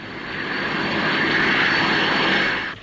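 Two-seater Fairey Ultra Light aircraft, a small runabout, running its engine with a steady, loud broadband roar that holds evenly for the whole span, nearby, with no voices.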